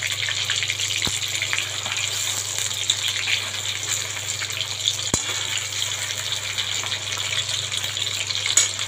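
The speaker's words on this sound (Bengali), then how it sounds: "চিকেনগুলো ভেজে নিয়ে তারপরে চিকেনগুলো ভাজা হচ্ছে" Chicken pieces frying in a pan for chilli chicken, a steady close hiss and sizzle throughout with a couple of sharp clicks and no talk.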